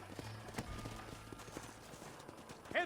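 Horse hooves clip-clop in a steady, close rhythm in the Red Dead Redemption video game, a continuous run of soft thuds with a brief louder burst near the end.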